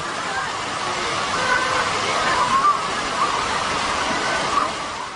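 An urban fountain sends up a continuous rush of splashing water, a broad steady wash at moderate loudness with faint city noise mixed in and no clear talk over it.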